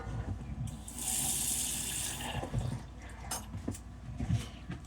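Tap water runs aboard a narrowboat, a steady rushing stream that swells for a couple of seconds and then eases, followed by a few scattered knocks and clatters close by.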